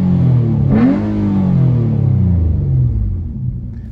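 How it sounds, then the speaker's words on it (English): A 2013 Nissan Maxima with a muffler and resonator delete and a 4-inch exhaust tip gives one quick rev: a loud, close rumble surges sharply upward, then slowly settles back to a deep idle. "Give you another quick rev."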